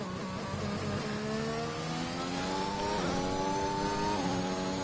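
Engine of a McLaren race car on a lap of Silverstone in a racing game, a steady, high-pitched whine rising through the gears with brief dips at the shifts, loud and continuous with no talk over it.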